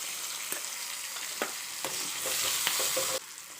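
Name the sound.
chillies frying in hot oil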